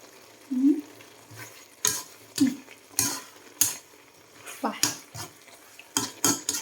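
Pork belly stir-fried in a pan with kaffir lime leaves and chili, giving repeated scraping and clattering stirs with a spatula against the pan over a soft sizzle, spaced at an irregular rhythm and fairly close.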